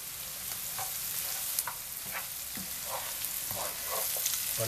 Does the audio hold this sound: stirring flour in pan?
yes